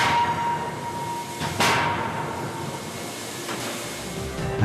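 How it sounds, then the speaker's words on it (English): A counterblow hammer finish-forging a hot workpiece, its die halves driving toward each other, lands one sharp, loud blow partway through, with a fainter impact near the end over a constant industrial hiss and rumble. "is finish forged in a counterblow hammer, the die halves of which move towards each other."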